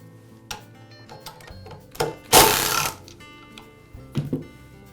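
Small clicks and ticks as screws come out of a DeWALT chop saw's motor end cover, with a short burst of whirring near the middle from a driver and light tool clatter around it, close and fairly quiet.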